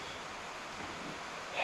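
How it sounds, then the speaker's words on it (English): Heavy rain pouring on the tin roof of a workshop, a steady broadband hiss of even loudness with no talk, swelling slightly at the end. "This shop's got a tin roof, so, and it's pouring rain."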